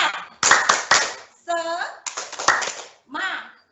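Schoolchildren performing a rhythmic clap-and-chant cheer, sharp bursts of hand claps in quick groups alternating with short shouted sung phrases from the kids, close and loud.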